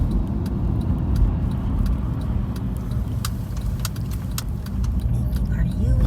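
A car on a road trip to the airport drives past a cemetery and swings through a U-turn, its engine and road rumble steady and close throughout, with faint light rattles and ticks over the low drone.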